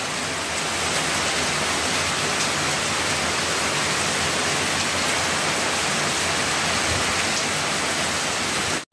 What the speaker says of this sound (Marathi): पाऊस पडू राहिलेला आहे